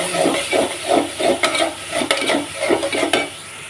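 Food frying in oil in a pan while a utensil stirs it, rhythmic scraping strokes over a steady sizzle with occasional metallic clinks, loud and close with no talking.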